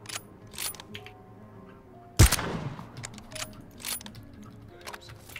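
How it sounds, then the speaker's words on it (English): A single loud, sharp gunshot at vehicle tires in PUBG, fired from a suppressed red-dot AWM, cracks out once midway through quieter game ambience and faint chatter. "I'm shooting their tires"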